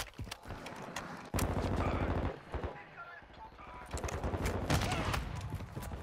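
Hip-fired automatic gunshots in Call of Duty: Modern Warfare II, with rapid close bursts layered over game noise and a voice talking at points.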